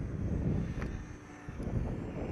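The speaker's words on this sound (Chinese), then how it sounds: "遥控着经典收藏的飞机，小心翼翼的缓慢升空" A remote-controlled propeller model airplane, a classic collectible plane, lifts off slowly over a wide lawn by a lake, its engine a steady droning hum mixed with outdoor wind rumble, fairly loud throughout with no talk.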